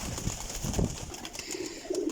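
A Faqir Gul pigeon coos close by, with a soft throaty call near the middle followed by a couple of lower, murmuring coos, over faint background noise.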